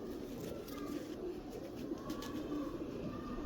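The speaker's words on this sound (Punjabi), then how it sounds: "ਬੜਾ ਤਕੜਾ ਕਬੂਤਰ ਹੈ ਜੀ" Sialkoti Teddy pigeons coo in low, soft, continuous murmurs, close by and steady against a dense background of birds.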